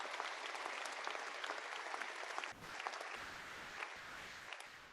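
Audience applause at a university commencement ceremony, a dense, steady wash of many hands clapping indoors that dips briefly midway and then carries on without fading.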